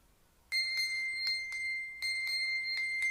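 A Mi Band 4 fitness band plays its find-device alert, a loud, bright electronic chiming that repeats in quick rhythmic pulses, starting abruptly after a quiet moment and continuing alone.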